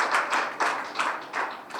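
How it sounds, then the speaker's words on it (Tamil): Clapping, about six or seven crisp hand claps in a quick, slightly uneven rhythm, close and alone. "அவருக்கு இந்த இடத்தில் நான் ஒரு கைத்தட்டலை கொடுக்கிறேன்."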